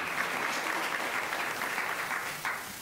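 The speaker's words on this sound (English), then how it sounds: "if we could keep the applause to a minimum, I would appreciate that as well" A room full of people at a school board meeting claps in a steady, dense burst of applause that carries on throughout and eases off slightly at the end.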